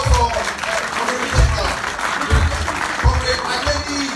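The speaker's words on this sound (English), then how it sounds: "Please, a round of applause for Comrade" A crowd of young people at a Youth International Day gathering hosted by the Ooni of Ife claps briskly, with low thumps and voices mixed into the applause.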